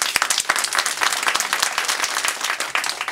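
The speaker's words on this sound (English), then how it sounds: "the mayor deserves a great big round of applause" Dense applause from an audience at a health center opening, honoring the mayor in Hammond; steady clapping from many hands fills the room without a break, fairly loud and close.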